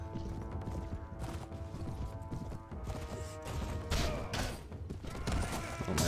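A horse gallops in the video game Mount and Blade: Warband, with rhythmic hoofbeat clip-clops mixed with thuds, clashes and impacts over a busy game soundscape, moderately loud and without clear speech.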